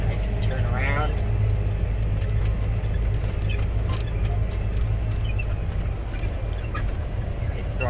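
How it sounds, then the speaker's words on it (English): Farm tractor engine throttling back and downshifting while planting cover crops with a drill, a steady loud low rumble and mechanical drone heard from the cab throughout, with a voice talking over it. "throttling back, get downshift to 11th gear, and then I can turn around"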